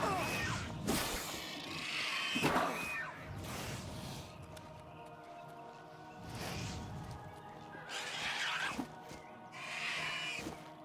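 Horses neighing and clashing in a fight in the video game Oblivion, with repeated whooshing bursts and thumps over steady game music and ambience.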